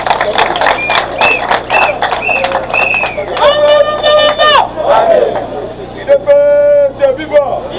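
A dense crowd of supporters at an outdoor political rally in the Congo shouts and chants together, loud and close, with rising and falling sung tones and overlapping voices throughout.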